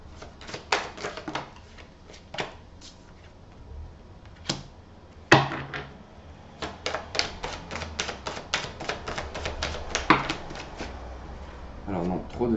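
A tarot deck shuffled by hand at close range, bursts of quick riffling card flicks and taps in uneven clusters, with someone speaking in between.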